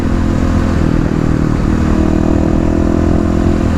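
A Kawasaki KLX351 dirt bike engine pulls steadily from cruising into mild acceleration, a loud, continuous mid-range drone with a faint rising pitch and no voices.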